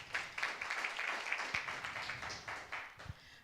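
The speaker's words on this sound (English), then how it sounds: "Can we give a hand of applause to the funders," Applause breaks out for the funders at a He for She project launch, a brief patter of scattered clapping hands that sounds faint and somewhat distant.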